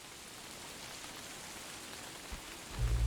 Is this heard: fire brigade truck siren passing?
no